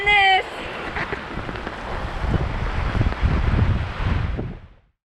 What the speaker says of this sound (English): It's blowing, and it's raining.